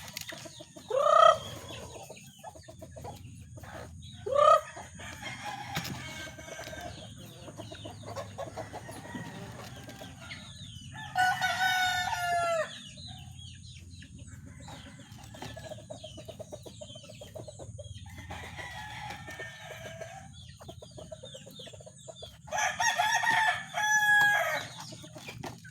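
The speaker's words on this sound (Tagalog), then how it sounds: "Yan po ang ating mga manok na inahin." Hens and roosters in a backyard flock cluck steadily throughout, with several loud nearby crows rising above the clucking at intervals.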